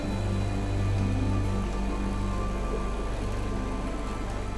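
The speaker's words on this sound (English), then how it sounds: "This place is really pretty in the rain." Steady rain falls in Fallout 4, a continuous broadband hiss with a low ambient hum underneath, even and unbroken throughout, with no talk.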